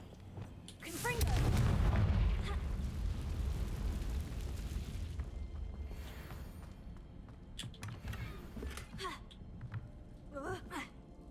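A Confringo explosion spell in the game Hogwarts Legacy erupts as a heavy low boom that swells for a couple of seconds, then rumbles down under scattered crackling debris and faint game effects.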